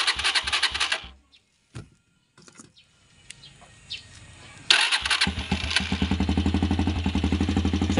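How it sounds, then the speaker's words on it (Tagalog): A motorcycle is cranked after a brief stretch of engine pulsing and a pause with scattered clicks, then fires up and settles into a loud, rapid, regular idle chug; a rooster or chickens can be heard faintly in the background. "Paandar natin yung motor."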